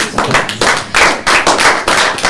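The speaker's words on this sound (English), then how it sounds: "Anyone that supports this gentleman, what Kristen said, should stand and give him a round of applause" A round of applause from a standing audience in a hall, a few people clapping loudly and close in uneven bursts with no talk over it.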